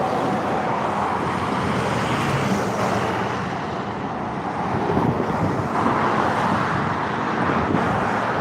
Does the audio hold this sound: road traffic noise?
yes